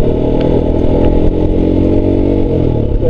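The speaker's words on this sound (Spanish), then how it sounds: "se escucha como que suben las revoluciones y ahí hacen el cambio" A motorcycle engine, heard up close and loud, revs with rising pitch over a rough clattering drone, then eases off as a gear is changed near the end.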